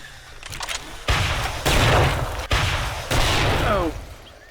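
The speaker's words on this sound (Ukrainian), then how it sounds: "О, це вибухи." A series of heavy, booming explosions in the video game 7 Days to Die bursts one after another, loud and close, with crackling debris between the blasts.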